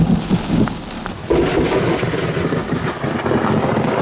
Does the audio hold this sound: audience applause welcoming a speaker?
no